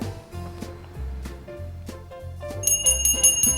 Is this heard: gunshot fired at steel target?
no